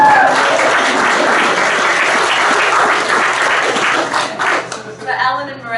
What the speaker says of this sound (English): we need one more big round of applause for the party they're throwing for us later on